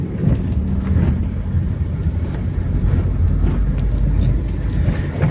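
A Proton Exora car's engine drones steadily from inside the cabin, a loud, low rumble mixed with road and wind noise as the car brakes and then picks up speed again.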